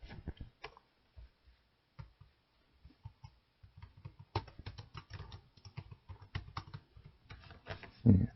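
Irregular clicks and clatter of computer keyboard key presses, including Enter and Tab, tapped at close range, with sparse rhythm early and denser typing later, ending in a louder thump.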